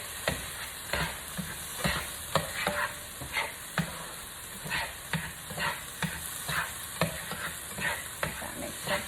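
Cauliflower chicken fried rice being stirred in a sizzling pan, with a steady fry hiss and repeated scraping strokes of the utensil in an even rhythm, close by and with no talk.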